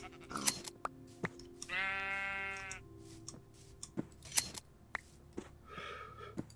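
Sheep in a video game bleat in a couple of wavering cries while being sheared, with crisp clicks and snips scattered around them at close range.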